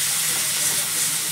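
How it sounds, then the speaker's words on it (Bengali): Potatoes for an egg curry fry in a hot pan, giving a steady, dense sizzle that runs evenly throughout at close range. "এটাকে এবার ভাজবো, আলুটাকে কিছুক্ষণ কষাবো।"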